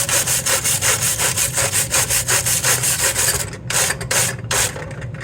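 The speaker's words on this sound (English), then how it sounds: "Stainless steel brush." A stainless steel wire brush scrubs briskly over a welded metal end in steady, rapid back-and-forth strokes, close and loud, easing off near the end with short pauses.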